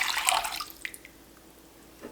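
Water splashing and dripping into a container while gathering ingredients for homemade focaccia dough, a short bright burst of pouring followed by a few scattered drips, close and alone without talk.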